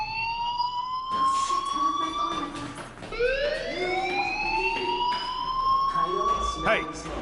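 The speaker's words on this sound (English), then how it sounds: "Hey, do you hear that fire alarm?" Alarm ringing in the video game Life is Strange, a steady rising-and-falling electronic wail with several harmonic sweeps that carries on loudly through the whole stretch, with a brief restart partway along.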